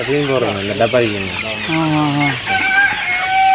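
Native country chickens in a Batticaloa farm enclosure give loud, close clucks and squawks in a rapid series, with a longer drawn cry near the end.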